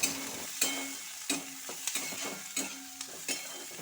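Onion, garlic and chopped green chilli fry in a pan while a spoon scrapes and stirs through them, giving about eight sharp strokes at a steady rhythm over a continuous close sizzle.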